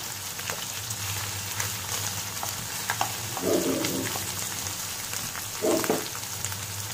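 Crushed garlic sizzling in hot oil with a cooking paste, a steady close frying hiss with two brief bursts of stirring or added ingredients partway through, no talking.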